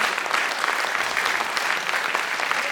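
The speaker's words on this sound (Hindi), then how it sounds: "ये लोग इन लोग के लिए ताली एक बार और हो जाए" An audience at a business sales masterclass claps for the event organizers, a continuous wash of applause with no pauses and no voices over it.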